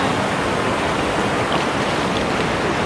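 Water pours steadily at the Wang Takhrai waterfall, a dense, constant rushing hiss that stays close and loud without a break.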